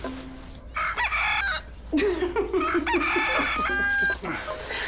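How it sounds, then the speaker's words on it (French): A young domestic chicken clucks and squawks repeatedly up close, loud bursts of choppy calls with short pauses between them. "il s'agit du caquettement d'un jeune poulet de l'espèce Gallus gallus domesticus"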